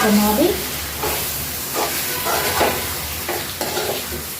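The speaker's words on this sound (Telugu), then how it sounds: "మ్యాగ్నేట్ చేసిన చికెన్ అయితే వేసేసుకుందాం చికెన్ వేసేస్తున్నాం కదా ఇప్పుడు" Marinated chicken going into a hot pan for a spicy chicken gravy, a loud sizzle and frying hiss with intermittent stirring scrapes, close and steady throughout.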